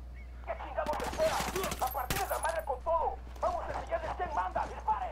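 Bursts of rapid gunfire crackle in a few quick volleys in Ghost Recon Wildlands co-op play, while voices talk over them and a low steady hum runs underneath.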